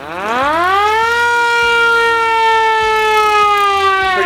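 A loud mechanical siren winds up from a low growl to a high wail and holds it steadily, with a faint rhythmic clatter underneath.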